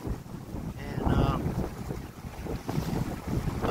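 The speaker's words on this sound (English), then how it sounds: "So the wind's picking up." Wind gusts buffet the microphone on a fishing boat out on a lake near Paris, Tennessee, a loud continuous rushing that swells and eases, with faint water slapping and a brief voice beneath it.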